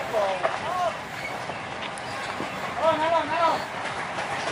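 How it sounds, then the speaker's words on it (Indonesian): An old lorry rail locomotive on a long-disused track creeps slowly forward with a low rumble and occasional creaks and squeals, while people talk over it. "lokomotif pelan-pelan melanjutkan perjalanan"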